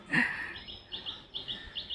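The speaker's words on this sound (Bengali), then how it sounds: "এই দেখ কী সুন্দর পাখি ডাকছে, দেখেছিস" Birds sing from a mango tree in the morning: a series of short, bright chirps repeat about every half second, fairly close and clear over a quiet background.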